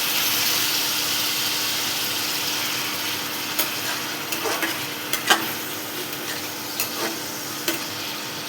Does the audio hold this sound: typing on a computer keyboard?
no